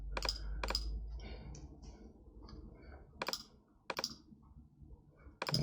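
Close computer keyboard typing in short bursts, crisp clicks and keystrokes spaced by pauses, including a few sharp separate taps, in a quiet room with no talk.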